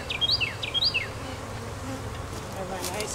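Honey bees buzz steadily around an opened hive during a honeycomb harvest, a close, continuous drone with a few brief higher chirps near the start.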